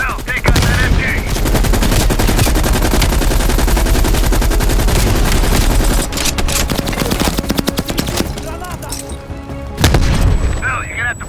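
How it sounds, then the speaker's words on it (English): Machine gun fire in the video game Call of Duty: Black Ops Cold War: very loud, sustained rapid automatic bursts with heavy booms, continuous for several seconds before easing, then another blast near the end, with voices mixed into the battle noise. "take out that MG"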